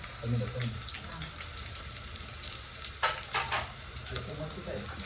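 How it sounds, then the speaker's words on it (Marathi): Onion frying in a pan, a soft steady sizzle with a few scraping stirs and light clinks near the end, in a quiet domestic kitchen. "कांदा फ्राय होते बाबा गॅस कमी कर जरा"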